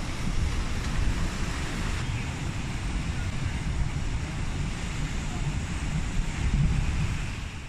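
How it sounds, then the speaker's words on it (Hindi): Ocean waves surge continuously at Timang Beach in Indonesia, a loud, steady broadband roar mixed with wind buffeting the microphone, with no clear pauses or distinct breaks. "महासागर की उफनती लहरें डरा रही थी।"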